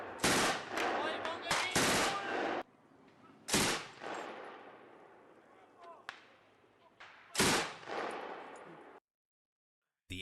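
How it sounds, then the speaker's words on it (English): An MG3 machine gun fires several loud rapid bursts, close by, each followed by a long echoing decay across open ground, then the sound cuts to silence near the end. "The MG3 or Maschinengewehr Model 3 MG3. is one of the world's most successful machine guns"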